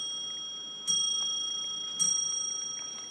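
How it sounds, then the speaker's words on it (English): A household clock chimes softly indoors, two faint bell strikes about a second apart with sustained ringing overtones and light ticking in a quiet room. "can you hear my clock chiming?"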